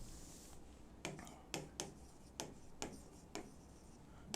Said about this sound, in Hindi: सबसे पहले यहाँ पर लिखते हैं